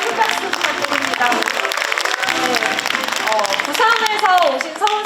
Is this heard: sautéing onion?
no